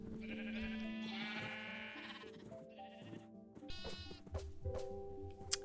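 Sheep in the Minecraft video game bleat several times in layered, overlapping tonal cries over game background sound, with no speech.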